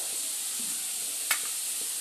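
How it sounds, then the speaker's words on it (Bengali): Potatoes fry in a covered pan, giving a steady soft sizzle with a brief louder hiss midway, quiet and without talk. "সেই কারণে আলুগুলোকে ঢাকা দিয়ে দিয়ে ভাজছি"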